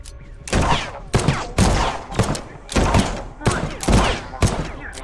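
Gunfire from a walking turret in The Pit: Infinity video game, loud rapid bursts of shots in a rhythmic series of about seven volleys with heavy low thumps, close and dominant.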